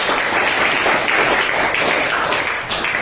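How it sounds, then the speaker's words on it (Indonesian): A crowd applauds steadily, a dense wash of many hands clapping at once that holds at an even, loud level throughout. "Kita berikan tepuk tangan untuk kelompok."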